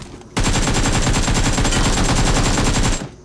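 Rapid automatic gunfire in PUBG Mobile, a continuous burst of close, loud shots lasting nearly three seconds with an even, fast rhythm, then stopping abruptly.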